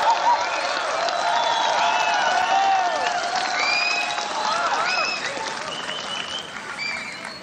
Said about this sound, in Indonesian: Saya harapkan berikan aplaus, tepuk tangan yang semeriah-meriahnya kepada Prabowo sebelumnya.